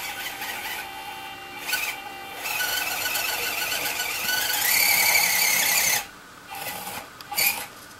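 An RC crawler, an RGT 136240 V2, slips its wheels on a steep incline of about 40 degrees, a sustained high whine and squeal of motor and spinning tires that swells, drops off, then returns in short bursts.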